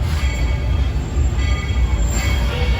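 A Walt Disney World Railroad steam train, the Lilly Belle, pulls into Frontierland Station with a loud, steady rumble of wheels on track. A faint high squeal sits above the heavy low rolling noise.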